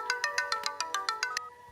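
Mobile phone ringtone, a short bright chiming melody of about ten quick evenly spaced notes, clear and close, that stops abruptly.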